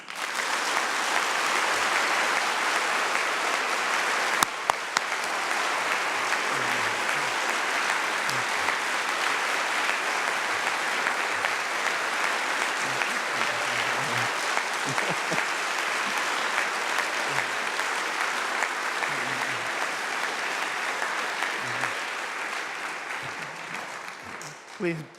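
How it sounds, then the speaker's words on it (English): A chapel congregation at Wabash College claps as loudly as it can, a dense, sustained roar of applause lasting well over twenty seconds before tapering off at the very end. "Will you please clap your hands"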